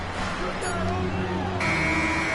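An end-of-quarter buzzer sounds in an NBA 2K25 basketball game, a steady tone starting partway through and holding to the end over crowd noise and commentary.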